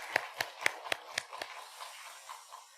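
Six crisp, evenly spaced hand claps ring out in a church, fairly close and rhythmic, then trail off into faint, scattered room noise.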